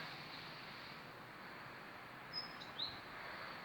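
Two brief, faint bird chirps sound over a steady background hiss on a quiet country road, spaced a fraction of a second apart.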